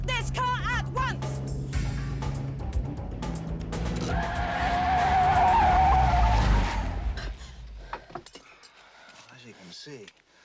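A car skids to a stop with a long, loud tire squeal that rises and then cuts off, followed by quieter rattling. Voices are heard before and after.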